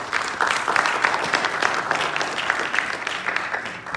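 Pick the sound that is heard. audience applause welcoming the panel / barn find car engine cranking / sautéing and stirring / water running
audience applause welcoming the panel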